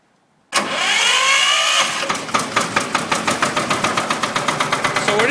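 A 1.5 ton site dumper fitted with a Newage three-speed gearbox cranks and fires up close by, its engine settling into a loud, steady chugging idle with a distinct rhythmic knock.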